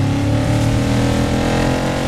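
A car engine in the racing video game Dirt 5 revs loudly and steadily for a couple of seconds, a dense continuous mechanical roar with no speech over it.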